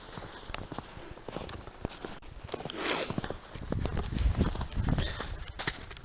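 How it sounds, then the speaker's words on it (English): Footsteps on an outdoor town lane after a snowstorm, a steady crunching walk with soft, uneven treads close by, rising slightly in loudness toward the end, with no talk. "so I'm walking down Town Yard, I am."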